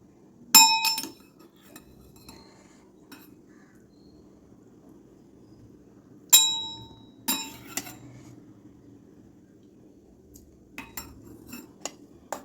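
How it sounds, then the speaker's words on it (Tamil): A spoon mixes curd into a ground green chutney pachadi in a bowl, making a few sharp metallic clinks and scrapes at intervals. Quieter stirring lies between the clinks, with no talking. "தயிரை ஊற்றி நல்லா கலந்து விட்ருங்க."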